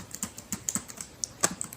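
A few sharp key presses on a computer keyboard as the Ctrl and C keys are pressed, quiet, close-up clicks spaced irregularly with no talking.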